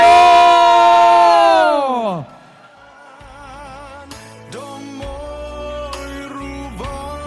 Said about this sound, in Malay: berikan tepukan paling gemuruh sekali lagi